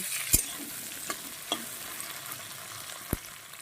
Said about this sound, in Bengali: আর দিয়ে দেব টমেটো এবার এটাকে সুন্দর করে আমি ভেজে নেব